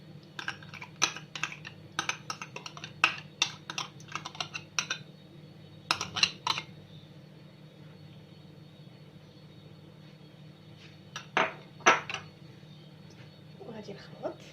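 A utensil stirring raspberry ice cream mixture in a bowl makes quick clusters of sharp clicks and taps over a steady low background hum, trailing off into sparse scrapes near the end.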